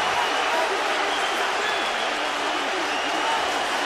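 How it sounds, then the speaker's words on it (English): A rugby crowd roars during England v Australia at the 2007 Rugby World Cup, a loud broad swell of many voices filling the whole moment without a break. "The crowd roar."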